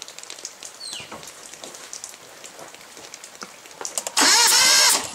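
A 1958 GMC truck engine is cranked with no spark checked, and after a stretch of light tapping and rain-like patter, a loud grinding burst of cranking lasts about a second near the end.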